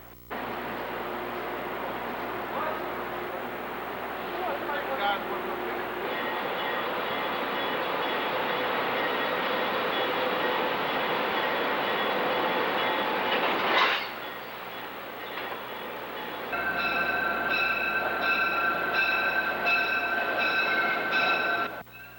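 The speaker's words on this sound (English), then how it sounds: "Atlantic City and Metroliner express runs pass us by as we continue to wait" Atlantic City and Metroliner express trains roll past on the Northeast rail line, a steady loud roar of wheels and cars with a rising whoosh near the middle, then a sustained horn-like tonal blare toward the end.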